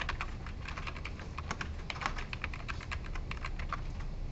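Someone types rapidly on a computer keyboard, a dense, steady run of close key clicks over a constant background hiss, with no talking.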